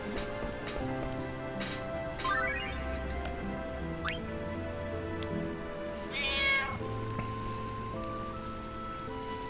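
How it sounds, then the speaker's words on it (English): Cat meowing in the Final Fantasy IX video game, several drawn-out meows over a busy game backdrop of soft music and ambient patter, heard alone with no talking. "There's a cat on the screen."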